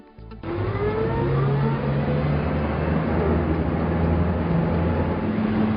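Beneteau Flyer Gran Turismo 38 motor yacht accelerating hard, its engine roar rising quickly and holding a loud, steady drone with rushing water and wind noise, close and without speech.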